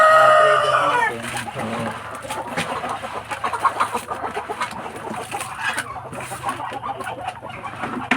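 Breeder chickens cluck and chatter together in a backyard farm, a busy, continuous flock sound with a rooster-like call near the start and steady overlapping clucks throughout.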